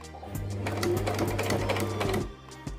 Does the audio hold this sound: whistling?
no